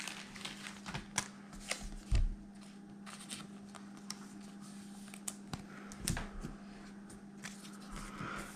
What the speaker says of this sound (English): We're going to go ahead and put that guy in a penny sleeve too.